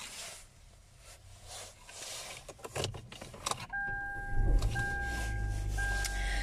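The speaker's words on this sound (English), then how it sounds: "Turn on the vehicle for you." A 2016 Hyundai Elantra with about 117,000 km is started from inside the cabin: a few sharp clicks and a steady two-tone chime, then a low engine rumble swells up and settles into a close, even idle.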